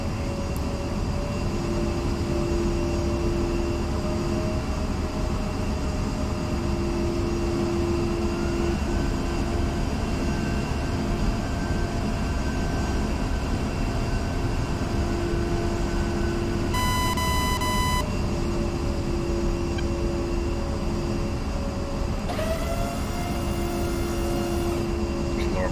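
Jet aircraft engine whines steadily during a night takeoff in DCS World on the Marianas map, a constant loud roar with rising tones and intermittent cockpit warning beeps layered over it.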